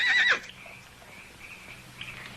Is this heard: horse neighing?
yes